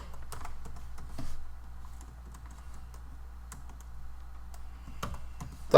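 Fingers type on a computer keyboard with close, irregular clicks and small bursts of keystrokes over a faint steady hum, with no one speaking.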